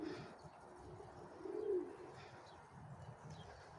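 Doves coo softly in the distance outdoors near a cage with two chicks: one faint, low hooting call rises briefly above quiet background ambience, with no talking.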